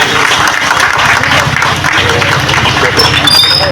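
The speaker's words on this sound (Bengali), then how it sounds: "করতালি, ধন্যবাদ" An audience at a tribute gathering applauds loudly and continuously, a dense wash of clapping close by that cuts off abruptly at the end, with a few faint high tones near the close.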